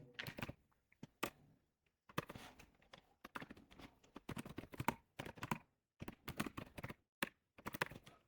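Quiet keystrokes on a computer keyboard while a title is typed for an HTML coding lesson, coming in short irregular bursts separated by brief pauses, close and soft, with no voices.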